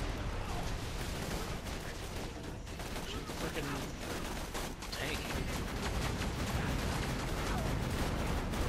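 Automated turret in Borderlands 2 firing continuously, a dense, loud stream of rapid gunshots and battle clatter that runs the whole time, with a voice talking underneath.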